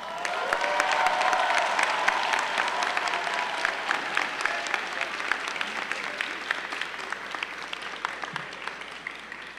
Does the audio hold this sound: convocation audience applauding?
yes